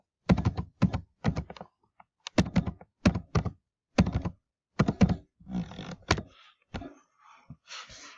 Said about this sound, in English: if we go back here and we manually type in those values